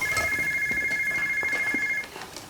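A telephone ringing with a steady electronic tone that holds for about two seconds and then stops, heard clearly over faint room background with no speech.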